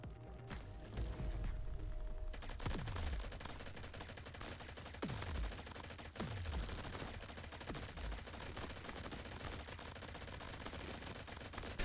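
Rapid gunfire in the crab-themed shooter Crab Champions, a fast continuous rattle of shots at a steady moderate level, broken by a few louder thumps, with no talking.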